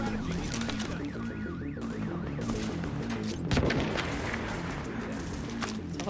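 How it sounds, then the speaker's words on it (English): Grenade blast in the video game The Division, a broad, loud burst about midway through a dense mix of continuous game gunfire, music and alarm-like wailing tones. "Let's try a grenade again."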